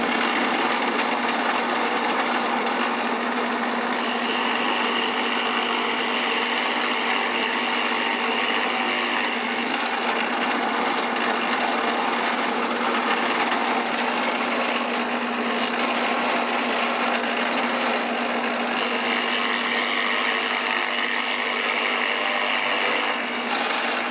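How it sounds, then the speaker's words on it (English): A drill press fitted with a 5/8 inch Forstner bit bores into wood for a bedside table build, giving a steady, loud motor whine with a constant cutting rasp that runs unbroken and alone throughout. "I've turned to the drill press and a 5/8 diameter Forstner bit"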